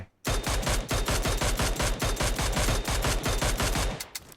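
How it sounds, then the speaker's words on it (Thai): An automatic assault rifle fires in PUBG Mobile, one long rapid burst of evenly spaced, punchy shots, loud and close, running for about four seconds with no talk over it. "เดี๋ยวเรายิงแบบ รัวๆเลยนะครับ"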